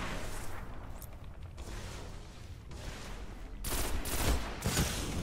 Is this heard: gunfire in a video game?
yes